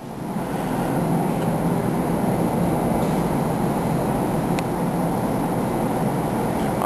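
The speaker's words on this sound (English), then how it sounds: "This is the elevator to Platform B" Hydraulic elevator running at Platform B of the LIRR Ronkonkoma station, giving off a loud, continuous, steady rumbling whir from start to finish with no talking.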